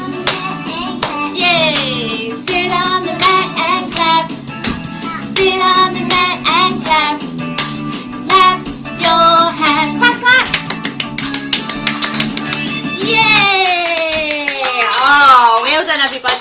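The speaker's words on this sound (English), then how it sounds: "Clap your hands." A baby music class has sharp rhythmic hand claps tapping along with a woman singing over a backing tune, the claps fast and bright among the voices.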